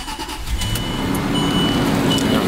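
A Land Rover LR3 idles after being started, its engine a steady low rumble as the air suspension raises the vehicle, a continuous mechanical hum that stays fairly loud and close throughout.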